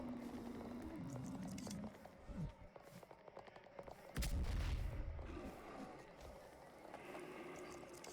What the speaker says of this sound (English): Thought that explosion was like something going on.